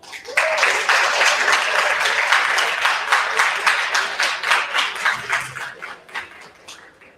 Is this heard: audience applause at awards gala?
yes